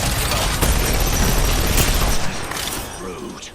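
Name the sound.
gunfire in a video game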